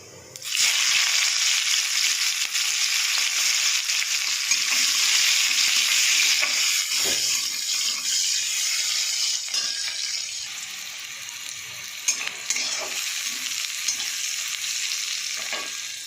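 Onions sizzle loudly in a pan with fried paneer and cumin, a dense steady hiss that eases slightly partway through, with occasional spoon scrapes and light clinks of stirring, with no talking.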